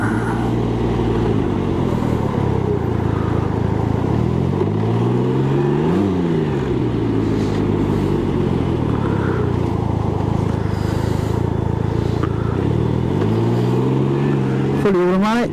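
A Can-Am Ryker 900 three-wheel motorcycle with a fully automatic transmission, ridden through heavy traffic: a close, steady engine drone whose pitch rises and falls with throttle changes, under constant wind rush.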